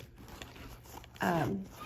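A backpack zipper is pulled open or shut in one short, close zip lasting under half a second, with a voice talking softly in the background.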